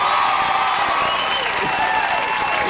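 Studio audience at a television talk show applauding and cheering, a loud, dense wash of clapping with whoops and shouts filling the room throughout.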